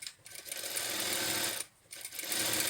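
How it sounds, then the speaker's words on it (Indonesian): A sewing machine stitches a fabric cuff for a ruffled sleeve with a hidden stitch, running in a steady, close mechanical whir that stops briefly mid-run and then resumes. "Jahit terus sampai ke ujung"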